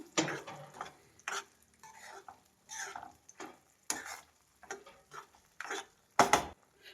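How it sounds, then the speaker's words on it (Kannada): A spatula scrapes and stirs paneer and masala around a pan in irregular strokes, with a faint sizzle of frying in oil underneath. "ಒಂದು 2 ನಿಮಿಷ ಪನ್ನೀರ್ ಜೊತೆ ಮಸಾಲ ಬೇಯೋದಕ್ಕೆ ಬಿಟ್ಬಿಡೋಣ"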